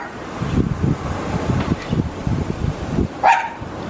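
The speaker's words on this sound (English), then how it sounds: "Hey, look at my neighbor's doggies. They have so many." A pack of neighborhood dogs barking loudly in rapid, uneven bursts from nearby, over light wind noise on the microphone.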